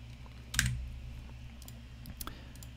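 Brief keystrokes on a computer keyboard, one sharper clack near the start followed by a few quieter taps in a hushed room, no talking.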